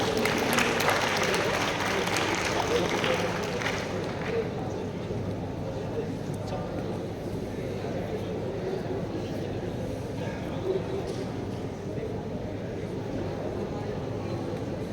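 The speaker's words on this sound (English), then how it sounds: "Let's have a huge round of applause." An audience at a leadership summit gives a sustained round of applause, loud at first and then settling into a steady, even clapping that lasts throughout.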